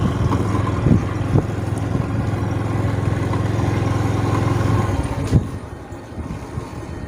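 Motorcycle ridden along a rural village road in Laos, its engine droning steadily with wind buffeting the microphone, then easing off near the end.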